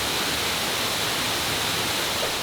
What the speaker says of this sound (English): the 2-for-1 Twin Cascades are multiple waterfalls